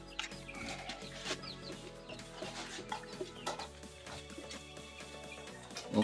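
Chickens cluck repeatedly on an African family farm, close and lively, over a busy background of other farm sounds.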